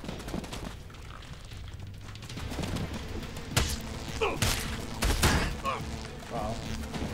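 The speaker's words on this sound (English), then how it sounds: "Damn rocket launcher, are you kidding me?" Rocket launcher fire and explosions in Elex II, several sharp booming blasts and thuds over continuous rumbling game noise, fairly faint and spread through the stretch.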